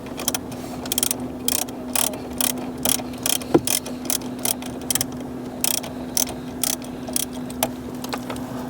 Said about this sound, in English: Loosen the 10mm bolts and then use your hands to support them once they get loose so you don't drop them.